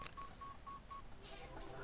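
Four evenly spaced telephone keypad dialing tones, faint and brief, over a hissy background with a few other soft tones trailing after.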